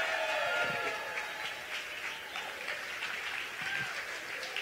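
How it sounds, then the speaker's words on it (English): A rally crowd applauding in a sustained wash of clapping, with scattered cheers and whoops rising over the noise. "So please give a round of applause to Josh Call."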